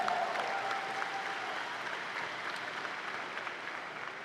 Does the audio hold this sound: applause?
yes